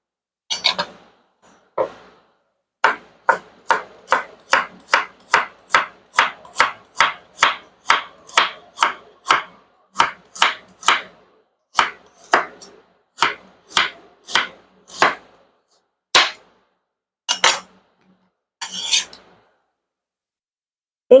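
Carrots being chopped for a stir fry on a cutting board, a long run of sharp, evenly spaced knife thwacks in a quick steady rhythm, close and crisp, thinning to a few scattered chops at the end.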